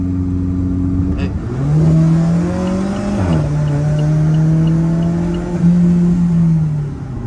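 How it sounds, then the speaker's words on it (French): An Alfa Romeo race car engine revs hard up close, pitch climbing and dropping through several gear changes, loud and continuous. "c'est une voiture de course"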